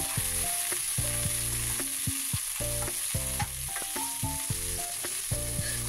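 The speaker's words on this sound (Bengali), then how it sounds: "তো এবার এটাকে একটু ভালো করে ভেজে নেব" Vegetables for khichuri fry steadily in a pan, a continuous close sizzle broken by repeated stirring scrapes and clinks of a utensil, with no voices.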